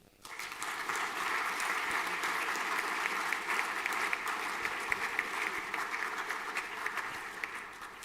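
Students and staff at a school assembly give a round of applause for award recipients, sustained, even clapping from a large crowd that starts suddenly and carries on steadily in a roomy hall.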